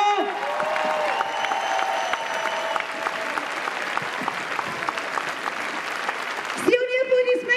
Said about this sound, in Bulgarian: Силни аплодисменти за голямото моряшко танцово семейство!